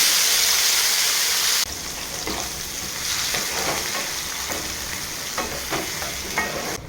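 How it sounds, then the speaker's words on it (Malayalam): Mustard seeds, tomato and curry leaves dropped into hot oil: a loud hiss that suddenly drops, then steady close sizzling with spatters and occasional stirring scrapes, no voices. "എണ്ണ ചൂടാകുമ്പോൾ നമുക്കതിലേക്ക് കടുകിട്ട് കൊടുക്കാം ഇട്ട് കൊടുത്തു നമുക്കിതിലേക്ക് തക്കാളിയും വേപ്പിലയും കൂടെ ഇട്ട് കൊടുക്കാം"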